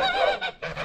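A duck in a village in China honks loudly nearby, with two or three quick nasal calls in a row.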